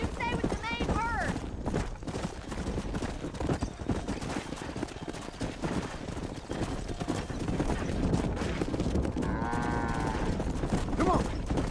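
Horses and cattle move as a herd in the Red Dead Redemption game, with steady clip-clopping hooves, lowing moos and a whinny, under loud shouting and talk.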